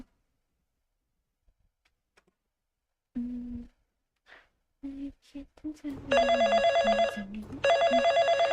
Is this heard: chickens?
no